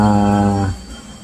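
A refrigerator compressor motor runs with a steady, fairly loud low harmonic hum for about half a second, then cuts off and leaves only faint background noise.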